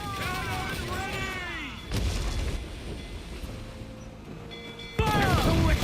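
Cannon fire in the pirate naval battle game Assassin's Creed IV: Black Flag: loud booming blasts break out around two and five seconds, over a rumbling din, with shouting voices in the game mix.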